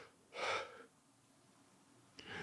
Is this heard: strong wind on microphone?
no